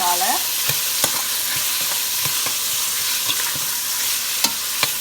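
Prawns sizzling in a hot pan for a Sri Lankan prawn curry with drumsticks, a steady close frying hiss with sharp scattered clicks of stirring throughout, no voices.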